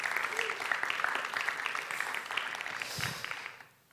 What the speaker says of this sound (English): So another round of applause for the dance team as well.